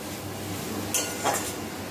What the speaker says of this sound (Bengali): এবার নারকেলটা পটলের সাথে খুব ভালোভাবে মিশিয়ে দিতে হবে।